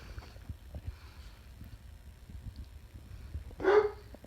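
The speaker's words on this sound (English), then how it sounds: "My dog barking." A dog gives a single sharp bark near the end, fairly close and louder than the quiet room tone before it, with faint rustling and handling noise earlier.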